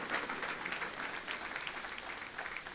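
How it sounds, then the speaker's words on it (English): A church congregation at an evening event in Dubai claps together in a steady, fairly faint wash of applause, sustained and even throughout with no speech over it. "Can we give a better clap offering to Master Jesus?"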